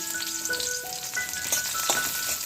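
Chili and garlic fry in a little oil, giving a close, steady sizzle with light crackles and a few faint scraping stirs, and no voices.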